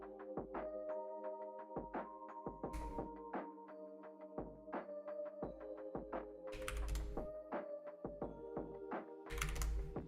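Rapid, uneven typing on a computer keyboard during an animation work session, with close, crisp key clicks and occasional heavier thunks from larger keys, with no voices.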